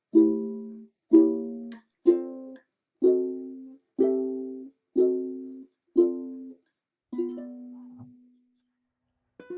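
Eight strummed chords on a ukulele, evenly spaced about a second apart, each ringing briefly and decaying; the last chord rings longer and fades out.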